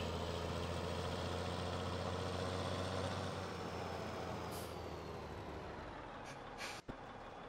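Heavy truck engine idling steadily in Farming Simulator 17, a low constant rumble throughout with a sharp air brake hiss near the end; no talking.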